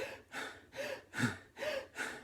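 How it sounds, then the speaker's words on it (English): Slow deep abdominal breathing, heard as a series of soft breathy inhales and exhales in a gentle even rhythm, faint and close. "This is calm, centered breathing. Inhale, expand in your abdomen, exhale."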